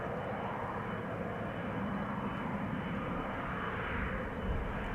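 A United Boeing 777 at Schiphol Airport gives a steady, loud jet-engine roar that holds for the full five seconds and swells a little near the end, with no voices.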